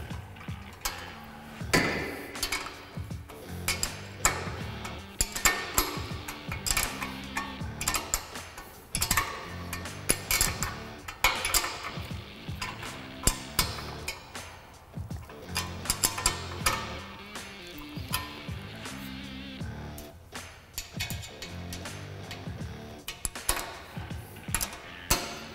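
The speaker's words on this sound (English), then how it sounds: "you're gonna wanna use a 1/2-inch wrench, and then you're gonna wanna use a 3/16 Allen wrench" Metal tools clicking and knocking while bolts on a Polaris RZR 1000 Gen 2 expedition rack are tightened with a 1/2-inch wrench and a 3/16 Allen wrench, with irregular ticks and taps continuing throughout, close and fairly busy.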